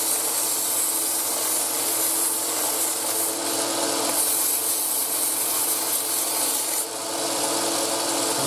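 A knife blade is ground and buffed on a powered wheel, a continuous close abrasive whir with a steady hum underneath, running evenly throughout with a slight dip near the end.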